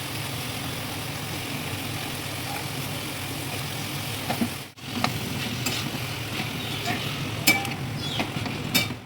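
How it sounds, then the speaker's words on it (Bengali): Chicken pieces frying in spice masala in a pan give a steady, moderate sizzle and hiss with occasional light scrapes and clicks, broken by a brief pause midway; no one speaks. "এর মধ্যে চিকেনগুলোকে দিয়ে দিতে হবে, হাত দিয়ে এরকমভাবে ছড়িয়ে দিচ্ছি"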